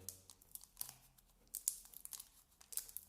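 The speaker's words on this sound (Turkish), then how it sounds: "Ambalaja zarar vermeden açmaya çalışacağım ama yapabilirsem" Plastic wrap and seals being peeled off a boxed Sonic game for the Nokia N-Gage, faint close crinkling and tearing in short irregular bursts.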